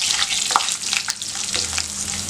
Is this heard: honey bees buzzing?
no